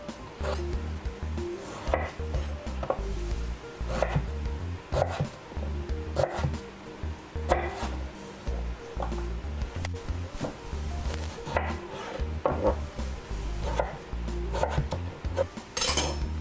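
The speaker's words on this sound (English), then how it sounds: "now that we have all of our potatoes cut up" A knife cuts potatoes into thin shoestring fries on a board, giving a steady, fairly quiet series of soft, regular chopping taps with no talk.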